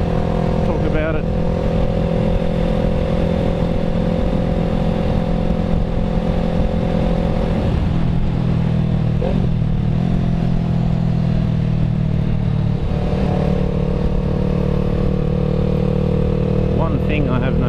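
A Yamaha YZF R3 sport motorcycle hums steadily while being ridden, with wind rush and engine drone throughout and a couple of shifts in engine pitch as it changes gear.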